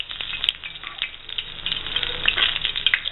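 A pasilla chile relleno frying in shallow oil, a close, bright crackling sizzle with popping spatters that grows slightly louder, no talk.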